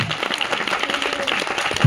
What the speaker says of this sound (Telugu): బిగ్గరగా చప్పట్లు కొట్టాలి.